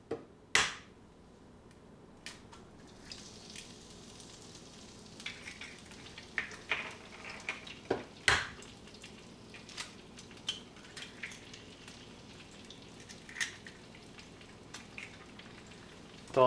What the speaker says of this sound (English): we're gonna crack the egg right on the pan.